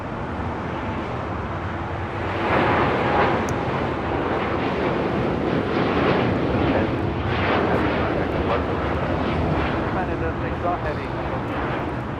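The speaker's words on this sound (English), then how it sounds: "This is Japan Airlines Flight 61 taking off to Tokyo Narita on a 787-8 Dreamliner" A Japan Airlines Boeing 787-8 Dreamliner takes off from LAX bound for Tokyo Narita, its engine roar swelling after a couple of seconds and then holding loud and steady, with a person talking over it.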